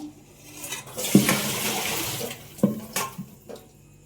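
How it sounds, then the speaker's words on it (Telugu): Raw banana pieces being washed in a vessel of clean water at home, splashing and sloshing steadily for a couple of seconds, then a few separate closer splashes and drips, nearby and fairly loud. "ఇదిగోండి మంచి నీళ్ళల్లో వేసి మళ్ళీ కడుగుతున్నాను."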